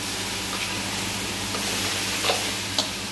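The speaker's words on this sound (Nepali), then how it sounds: "चाना हालिसकेपछि मजाले मसालासँग मिसाउने" Boiled chickpeas stirred into spices in a pan, a low steady scraping and faint sizzle with a couple of soft spoon knocks near the end.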